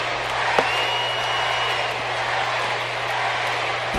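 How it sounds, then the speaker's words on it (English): Arena crowd in the wrestling game WWE 2K17 at an Extreme Rules match, a steady broad roar of cheering and applause sustained throughout, with one brief sharp thud near the start. "The crowd is getting behind Randy Orton."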